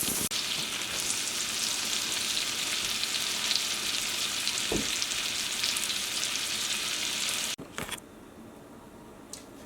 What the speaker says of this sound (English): We put the Brussels sprouts in the pan. It was hot. We had oil, added a little bit of butter. They fried for a minute.